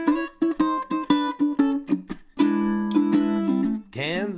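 Ukulele blues turnaround picked at a quicker tempo: a run of bright plucked notes in a steady rhythm, then held strummed chords, close and clean, ending on a brief sung note.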